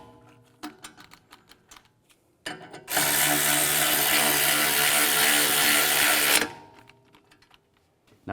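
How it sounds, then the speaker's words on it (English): Loud sustained mechanical whir of a tool tightening bolts on the front CV axle of a 2004-2010 BMW X3, running steadily for about three and a half seconds between quieter clinks and handling noises. "Now I'm going to torque these bolts to 81 foot-pounds"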